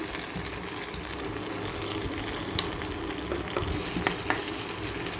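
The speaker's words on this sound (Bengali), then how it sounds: "একটু কষানো হয়ে গেলে যখন পেঁয়াজ মশলা বাজা বাজা হয়ে আসবে তখন দিয়ে দেব একটু টমেটো পিউরি" Onion and spice paste frying in a pan with stirring, tomato puree added, for a pangas fish curry with ground nut paste; a steady close sizzle with occasional scraping clicks runs throughout.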